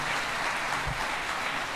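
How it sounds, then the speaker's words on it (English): Audience at an awards and certification ceremony claps in a steady wash of applause, continuous and moderately loud throughout the short burst. "give NIA, CVSS, and USAID a round of applause for them"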